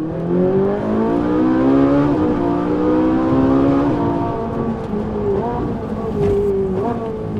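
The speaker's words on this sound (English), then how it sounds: "it sounds incredible with that naturally aspirated V8" Ferrari 458 with a naturally aspirated V8 engine on track, revving loudly and rising through the gears with smooth climbing pitch sweeps, close by and continuous.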